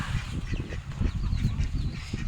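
Chickens on a farm in Mindanao, hens with a growing chick, cluck and call in a steady run of soft, close bursts over low rustling farmyard noise, with no voices.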